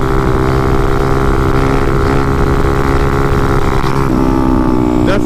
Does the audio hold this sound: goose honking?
no